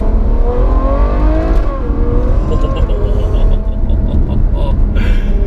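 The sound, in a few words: Ferrari GTC4Lusso V12 engine revving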